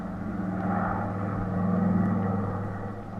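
Airplane engine sound effect from an old radio drama, a steady loud droning rumble that swells slightly and holds, with no voices over it.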